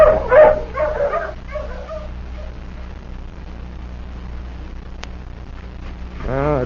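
Hounds in an old-time radio drama yelp and whimper in quick, excited bursts near the start, then fall quiet over a low steady hum before a brief whining call returns at the end.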